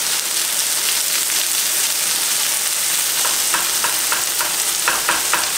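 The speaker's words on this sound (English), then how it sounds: "Saute a little bacon first, put the corn in there." Frozen white corn sizzles steadily in a hot pan, a close, continuous fry with light stirring scrapes and crackles and no talking.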